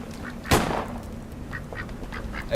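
Ducks quacking from the Duck Hunt bush in the Little Inferno video game, a loud burst of quacks followed by several shorter, quieter quacks in a quick series.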